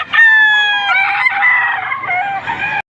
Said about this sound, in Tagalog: ito pong dalang manok